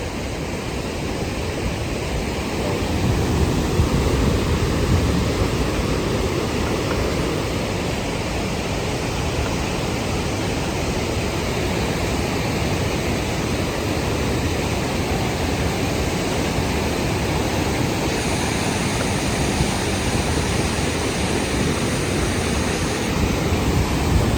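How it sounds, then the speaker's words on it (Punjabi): A fast mountain river rushes beside a trail on the way down to Govindghat, a loud steady broadband roar of flowing water that fills the whole stretch with no speech over it. "ਇੱਧਰ ਨਦੀ ਚੱਲਦੀ ਆ ਪਾਣੀ ਦੀ ਆਵਾਜ਼ ਦੇਖੋ ਕਿੰਨੀ ਤੇਜ਼ ਆ"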